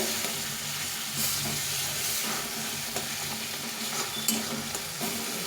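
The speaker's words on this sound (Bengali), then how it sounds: "এভাবে কষি নিতে হবে" Soybean do pyaza gravy sizzles in a pan as it is stirred and sautéed, a steady hissing fry with scraping strokes of the spoon, close and continuous without speech.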